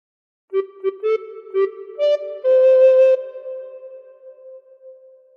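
A recorder plays the opening Happy Birthday phrase as a run of short, clear tones: several quick separate notes, then a longer sustained note that fades out, close and solo.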